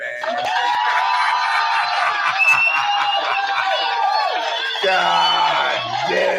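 An audience at a live show cheers and whoops in a loud, sustained crowd roar, with shouting voices layered on top throughout.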